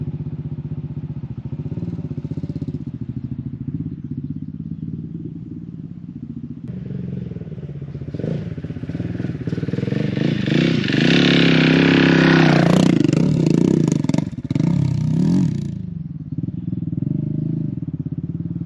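An enduro motorcycle with a 15-tooth sprocket rides over rough ground, its engine droning steadily, then revving louder as it climbs through first and second gear with brief clutch slips. The engine stays close and loud throughout.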